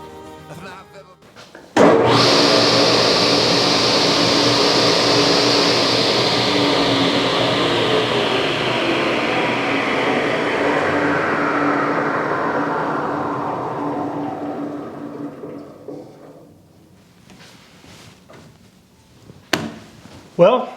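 A table saw motor kicks on with a sudden burst, then runs with a bright whine that slowly falls in pitch as it coasts down and fades into quiet near the end.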